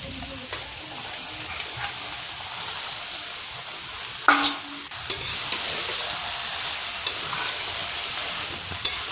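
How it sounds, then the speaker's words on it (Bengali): Goat meat frying with turmeric and chili powder in a pan, a continuous close sizzle broken by a few louder stirring scrapes and clanks, heard alone. "মাংসটা ভেজে নেব"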